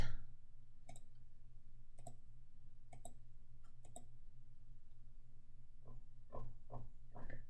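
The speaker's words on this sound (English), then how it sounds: "I can just click to remove certain questions I don't want" Computer mouse clicking through a list to remove questions: crisp, close single and double clicks at irregular intervals, quiet, with a low steady hum behind them.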